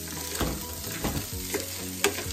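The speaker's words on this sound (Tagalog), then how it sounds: "Ang almusal natin at magluluto din po tayo ng hotdog" Hot dogs fry in butter in a pan, giving a soft, steady sizzle broken by a few light stirring scrapes and taps, quiet and close by.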